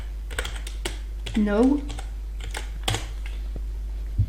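Typing on a computer keyboard comes through as a handful of separate key clicks, fairly close, while someone speaks a short word amid the tapping over a low steady hum.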